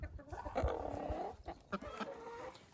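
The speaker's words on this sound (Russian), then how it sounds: "Сейчас как раз курочки несутся." Hens laying eggs cluck nearby in a quiet coop, with a run of drawn-out clucks followed by short scattered cackles and soft calls.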